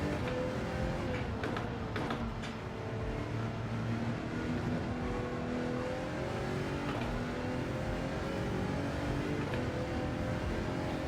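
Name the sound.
race car engine in Gran Turismo 7 video game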